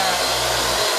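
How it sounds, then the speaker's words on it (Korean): A hair dryer blows close by at full power in a bathroom, drying a wet cat that loves water; a steady, loud whooshing roar with a constant motor hum. "녀석이 좋아하는 화장실에서 겨우겨우 드라이기로 말려봅니다"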